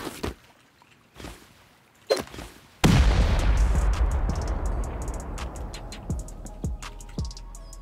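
HE rockets striking a base in a raid game: a few scattered thuds and clicks, then a heavy booming explosion that rumbles and decays over several seconds while debris ticks and cracks follow.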